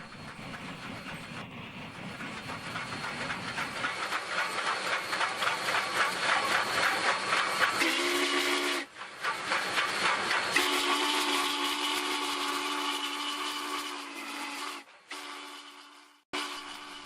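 A Big Boy steam locomotive, among the largest and most powerful ever built, running with a loud continuous roar of steam and chuffing, broken by long, sustained whistle blasts that cut off abruptly, close and alone without voices.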